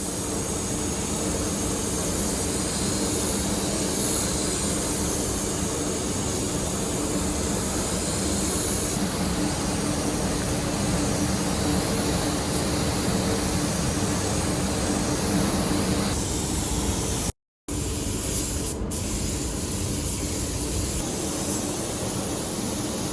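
Spray gun laying a third paint coat on a VL Commodore Executive turbo in a booth, a steady loud hiss of air and spray with compressor roar running continuously, broken by one short gap near the end.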